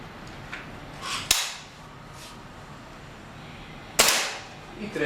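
Two sharp, close reports from a Gamo CFR Whisper IGT 5.5 mm air rifle about three seconds apart, each with a brief decay, over a quiet background.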